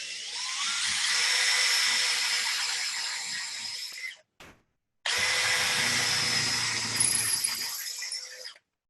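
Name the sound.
drill boring dowel holes in wood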